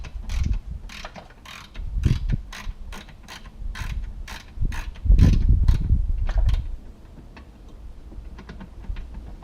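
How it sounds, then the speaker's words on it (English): Ratchet and spanner work on nuts and bolts while fitting an H brace and front lip to a Subaru Impreza, producing bursts of close, loud ratcheting clicks with clunks and pauses, fading to quieter clicks near the end. "So same again, using the spanner and the ratchet"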